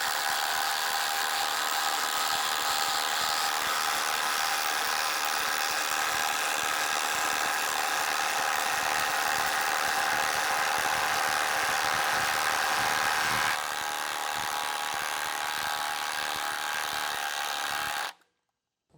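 Two cordless power tools, a Gen 3 with a high-output battery and a Gen 4 with a 5Ah battery, run flat out at top speed, likely drilling without pilot holes. Their steady, loud mechanical whine holds for about eighteen seconds, then cuts off abruptly.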